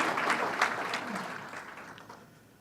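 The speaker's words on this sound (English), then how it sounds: "That's worth some applause." Applause from an audience at a New York State Fair press event, a burst of clapping that starts loud and slowly fades over a few seconds.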